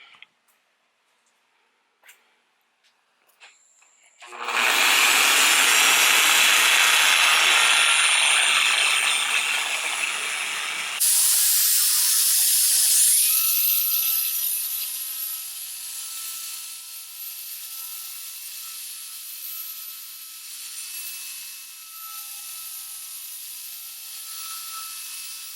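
A Torq15DA dual-action polisher works over truck paint. A few light taps come first, then a loud, close, continuous whirring drone starts and runs on, its pitch and tone shifting partway through as pressure changes.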